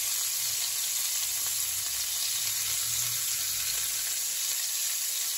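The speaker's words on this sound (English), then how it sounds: "While the butter is melting, I'm going to add some onion." Onion sautés in melted butter, giving a steady, soft, close sizzle that crackles evenly throughout with no talking.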